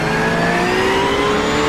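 A Mustang race car in the iRacing sim during an IMSA race at Algarve gives a loud, steady engine drone with rising harmonic tones as it accelerates, alone with no talk.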